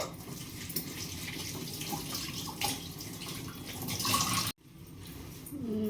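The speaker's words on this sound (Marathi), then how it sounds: "अळूची पानं आपली धुवून झाली आहे" Taro leaves washed under a running tap in a home kitchen, with a continuous splashing gush of water into the sink, steady and close, that cuts off abruptly near the end before softer dripping and handling noises.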